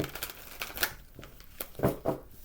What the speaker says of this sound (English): Let's get a smooth shuffle, please.